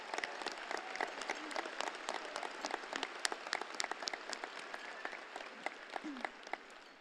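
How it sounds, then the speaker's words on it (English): Graduation ceremony audience applauding steadily for the valedictorians, a dense wash of many hands clapping at moderate distance, sustained throughout with no speech over it. "Let's give them a round of applause."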